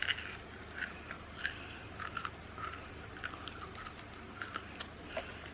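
Crunchy chewing of a hard, coffee-flavored little brown square snack, close to the mic, with repeated bites and crackles at an irregular pace.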